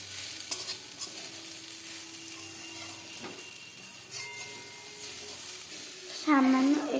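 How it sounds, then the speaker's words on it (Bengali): Soaked sago is stirred with raisins and cashews in a pan for an Ekadashi vegetarian dish, giving a soft steady scraping and faint sizzle, with a louder clatter near the end. "এবার ভালো করে নাড়াচাড়া করে নিতে হবে।"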